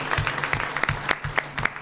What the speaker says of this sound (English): Can you give him a round of applause?